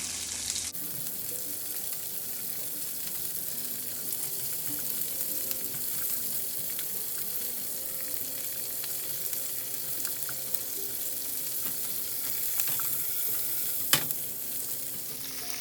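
Asparagus fries in a pan on low heat, giving a steady soft sizzle throughout with occasional light scrapes and one sharp clink near the end.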